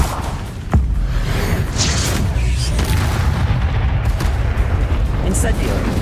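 Fire spell cast in Hogwarts Legacy, a dense roaring burst with low booms and whooshing flares that run continuously for several seconds, with speech mixed in.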